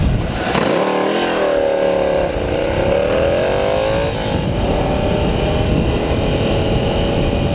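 A 2017 Ducati Scrambler Cafe Racer motorcycle ridden at speed, its engine revving hard through a rising pitch, then holding a steady drone under loud wind rush, close to the rider.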